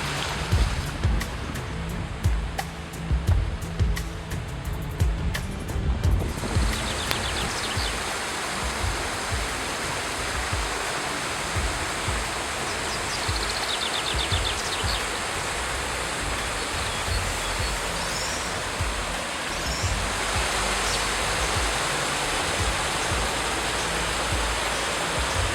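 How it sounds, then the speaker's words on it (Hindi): A mountain waterfall near Badrinath and Mana village in the Himalayas rushes as a broad, steady roar of falling water. It stays loud and continuous throughout, with the texture shifting slightly partway through. "यहाँ पे भी बहुत ही सुंदर सा झरना एक बह रहा है"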